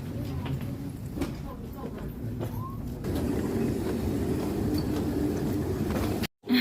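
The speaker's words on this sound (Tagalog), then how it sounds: "So, we're taking MRT here in Taipei." Steady rumble of a Taipei MRT train in motion, a continuous low drone with faint rattling that swells slightly after a few seconds, heard from inside the carriage with brief background voices.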